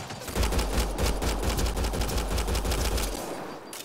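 Sustained automatic gunfire in the Mass Effect Andromeda video game, a dense rapid stream of shots with heavy low thump, loud and continuous for about three seconds before stopping.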